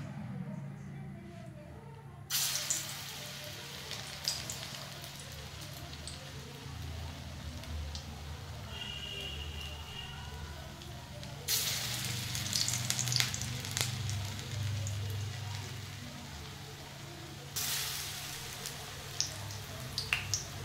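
Palm fruit pulp fritters (bora) sizzle steadily in hot oil, with a continuous bubbling hiss that swells louder at a few points and a faint stir or clink now and then.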